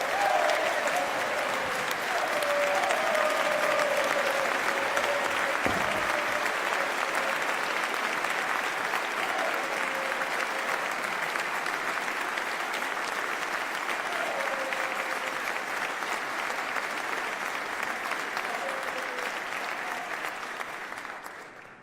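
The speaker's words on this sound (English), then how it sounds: "Somebody had to get more applause than Max." Sustained audience applause in a large hall at the Massachusetts State of the Commonwealth address, a dense, steady wash of clapping lasting about twenty seconds, with a few faint whoops rising through it before it tapers at the end.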